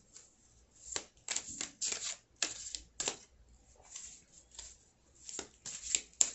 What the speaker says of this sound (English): Let's pull some more cards and see.